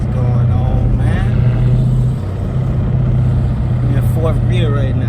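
Loud, steady exhaust drone from a 2021 Lamborghini Urus with a mid muffler delete, cruising in low gear with a deep continuous rumble, engine tone shifting briefly near the middle and toward the end.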